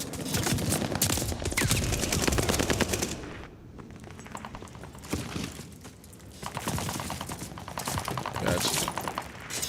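An MG42 machine gun fires in a video game, sustained rapid bursts of loud automatic gunfire with brief pauses between strings of shots, close and dominant with no talk.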